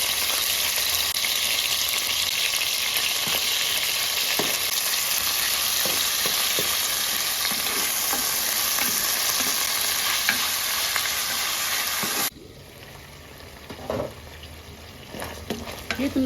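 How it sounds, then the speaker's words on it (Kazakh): Meat fries in hot oil as a loud, dense, continuous sizzle for most of the stretch. Near the end it suddenly drops to quieter crackling with a few utensil knocks. No one speaks. "етімізді салып қуырамыз."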